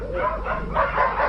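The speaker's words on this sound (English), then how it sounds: "these are, you know, 100-pound dogs that are tearing each other apart" Large, ferocious dogs of about 100 pounds fighting, with continuous snarling, yelping and barking bursts that swell and fade over a steady low background, moderately loud and close.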